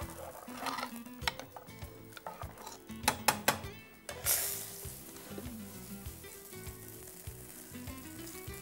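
Vegetable kootu of raw banana and karunai kizhangu, just tempered, stirred in a pan with a spoon knocking and scraping against the metal over a soft sizzle, loudest in a burst of clinks near the middle, no talking.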